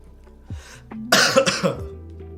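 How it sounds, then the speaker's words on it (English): A few harsh coughs close up, a short rough burst followed by several quick throaty hacks, with no talking. "I still have a bit of a cough, guys."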